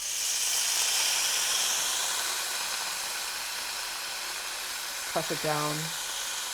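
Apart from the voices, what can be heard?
beef tenderloin searing in a pan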